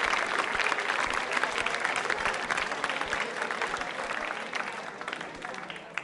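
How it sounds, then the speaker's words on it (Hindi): A school audience at a quiz show claps loudly and continuously, a thick wash of applause sustained throughout and tapering slightly toward the end. "जोरदार तालियां बजनी चाहिए।"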